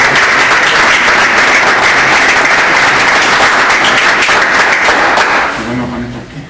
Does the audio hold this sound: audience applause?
yes